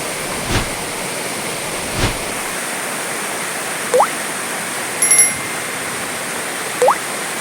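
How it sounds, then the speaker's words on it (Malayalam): A roadside waterfall at Vagamon in the monsoon roars as a dense, constant rush of water close by, with a few faint clicks and knocks over the steady wash. "ഇതാണ് ഈ റൂട്ടിലുള്ള ഏറ്റവും വലിയ 2 വെള്ളച്ചാട്ടം"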